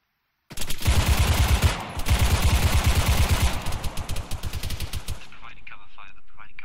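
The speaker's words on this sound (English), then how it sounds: "They're providing cover fire." Rapid bursts of automatic gunfire from a firefight in Arma 3 during a mosque defense, starting abruptly with dense sustained rattling, then a rhythmic train of distinct shots that tapers off into a lighter clatter.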